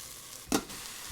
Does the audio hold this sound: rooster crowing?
no